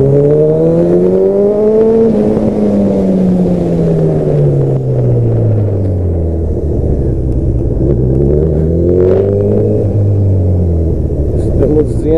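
A car engine labours while driving with a closed gear, a loud, steady droning rumble whose pitch rises, sinks slowly, then climbs again, close and continuous throughout.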